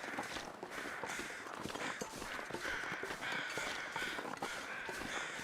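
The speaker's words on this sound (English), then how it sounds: "now those crows sound all" Crows caw in the snowy wilderness of the video game The Long Dark, with repeated calls mixed into a dense, steady layer of wind and ambient noise, along with faint footstep-like crunches.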